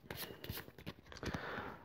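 A deck of cards for SUPERHOT: The Card Game is shuffled close by in quick, soft riffling bursts of flicking and sliding card edges, faint and alone.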